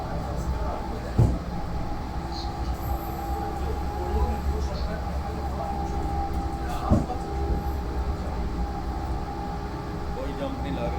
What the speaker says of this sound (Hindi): ये ट्रेन सीधा लेके जाके इमिग्रेशन में उतारेगी।